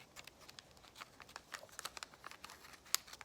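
Soft crinkling and light tapping of a thin plastic sleeve being worked open with a cuticle stick, close and quiet, with small irregular clicks.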